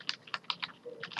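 Rapid clicking keystrokes on a computer keyboard as a shortcut is typed, close and clear, about eight taps in a quick uneven burst.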